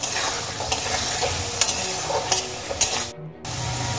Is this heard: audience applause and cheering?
no